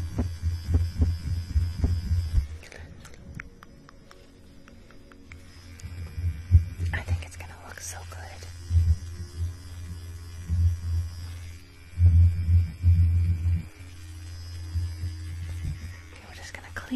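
Electric hair clippers shave the sides of a head, their low buzzing hum coming in uneven close bursts over about seventeen seconds beneath soft whispering.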